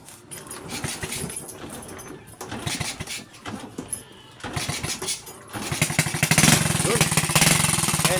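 A motorcycle engine, fitted with a three-wire stator-to-CDI hookup, cranks and catches, rising from uneven mechanical clatter into a steady, loud running idle close by, with brief voices in the background.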